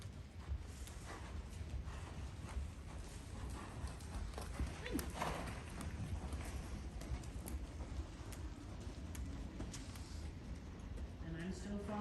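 Horse hooves thud and clop on an arena surface during a riding lesson, steady rhythmic footfalls under continuous outdoor noise, with an instructor's voice talking at times.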